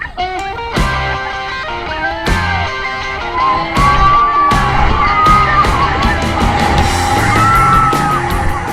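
Several people scream and yell loudly together in repeated bursts on a boat ride over a rushing, churning background, with excited shrieks rising and falling.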